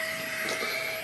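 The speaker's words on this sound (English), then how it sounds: "I think that has maxed out the power that the pump can do" Electric air pump inflating a winter camping sleeping mat at full power, a steady close whine with a strong even hum lasting the whole moment, no talking.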